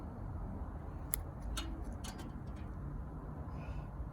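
Bonsai shears snip tips off a dwarf Japanese hemlock, giving a few faint, crisp clicks spaced about half a second apart over a steady low background hum.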